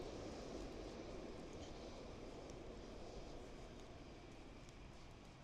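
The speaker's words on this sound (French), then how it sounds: "Bon, il y a le tramway" A tram passes along a city street, giving a steady, fairly loud rumble that holds evenly for the whole stretch with no talking.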